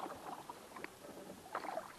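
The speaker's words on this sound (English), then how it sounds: "paddling against the headwind, I have better things to do than doing videos" Paddle strokes from a solo canoe on Smoke Lake in Algonquin Park, pushing into a headwind: faint splashes and water swirls in two soft bursts over a low, steady wind hiss.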